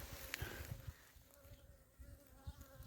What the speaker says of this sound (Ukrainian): вийшов на пасіку подивитися, як мої тут комахи. Літають і вже беруть соляну водичку, що ми їм поставили.